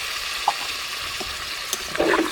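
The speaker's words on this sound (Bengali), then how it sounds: "আর একটু জল লাগবে।" More water is added to a Katla fish curry in the pan, giving a brief splash near the end over a steady low sizzle, close by with no talking.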